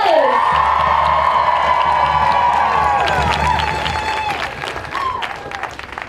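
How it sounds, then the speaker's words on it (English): Outdoor crowd at a climate strike rally bursts into applause, cheering and high-pitched whoops, loud and sustained at first, then thinning out toward the end. "Let's give her a massive round of applause!"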